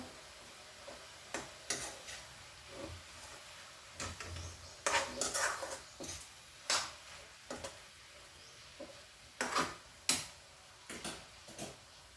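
A spatula stirs spices into an amaranth leaf and raw mango curry in a pan, giving quiet scrapes and irregular clinks and taps against the metal over a faint background.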